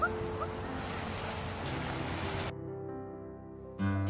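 Dogs playing in the surf at Crissy Field beach, with steady wave and water noise throughout, brief yips and whimpers in the first half, then a quieter stretch with a low hum before a louder burst near the end.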